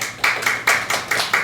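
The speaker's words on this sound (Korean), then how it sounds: "박수" A short burst of applause during a Korean church Sunday service, rhythmic clapping from a small group, fairly close and even in pace.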